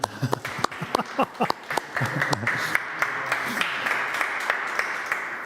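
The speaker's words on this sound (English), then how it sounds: "Please, applause for Werner." An audience at a facade design conference session applauds, starting with scattered individual claps under a voice, then swelling into continuous dense clapping that holds to the end.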